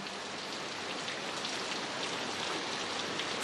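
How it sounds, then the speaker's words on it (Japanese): Heavy rain pours steadily onto surfaces in a constant, even hiss with no pauses, fairly soft in level and with no voices. "すごい雨だね。"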